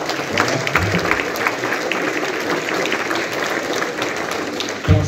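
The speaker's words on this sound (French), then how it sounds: "vous pouvez les applaudir aussi" An audience applauds interview participants at a film preview screening, a loud sustained clapping that runs without a break and ends on a brief thump.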